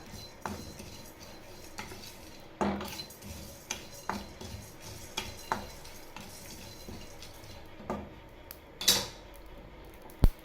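Roasted coriander and cumin are scooped from a pan, heard as a run of irregular metal clinks and scrapes of spoon on pan over a faint background, with a few sharper knocks.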